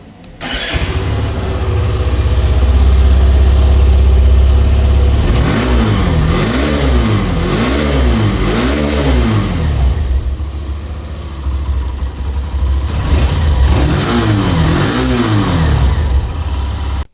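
A 2026 Hero Xtreme 125R motorcycle with a short grey-shielded exhaust idles loudly up close, then is blipped through two sets of rhythmic throttle revs that rise and fall, with no talking.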